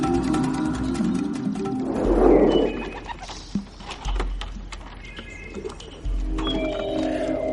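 A pigeon is let out of a box in an open field with no trees around, giving soft cooing and fluttering amid rustling and a steady outdoor rumble, fairly close with no talk.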